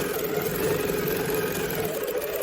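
Steady, continuous whirring of a sewing machine stitching down the vertical bottom edge of a quilt, a close, even motor drone with no pauses or talk.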